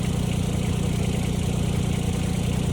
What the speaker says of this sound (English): I'm going to pull the tractor up